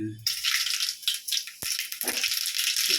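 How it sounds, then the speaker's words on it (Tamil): Mustard seeds and lentils drop into hot oil for a taro and mango kara kuzhambu, giving a close, continuous crackling sizzle with sharp pops, briefly broken by a knock. "இந்த பருப்பா கொஞ்சம் கடுகு பருப்பு போடுறேன்."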